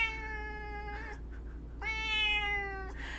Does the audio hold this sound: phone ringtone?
no